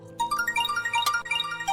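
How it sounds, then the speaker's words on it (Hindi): A phone ringtone for an incoming call plays alone, a bright, rapid melodic sequence of electronic tones repeating steadily at close range. "दुआ की कॉल आ रही है, मैं एक कॉल लेकर आता हूँ।"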